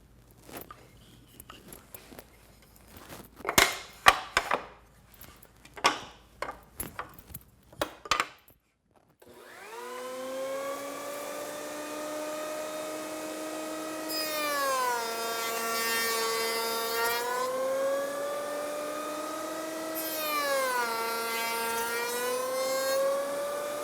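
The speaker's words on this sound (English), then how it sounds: "I'm ready to cut the cope joinery on my rails" Router spinning up on a router table, then cutting cope joinery on cabinet door rails with a featherboard, a steady loud whine with pitch dips as the wood is fed through, after a stretch of handling clatter and knocks.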